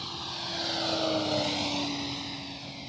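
A Flightline F4U Corsair RC model plane with a 1600 mm wingspan flies past at full speed, its electric motor and propeller holding a steady high whine that swells and fades a little as it passes, with no talking.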